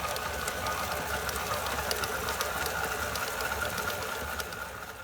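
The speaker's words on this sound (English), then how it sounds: "We're going to put the paddle on and let that mix up" A stand mixer with a paddle attachment churns Italian sausage meat for several seconds, giving a steady, even mechanical whir with a faint rattle that holds constant and fades slightly at the end.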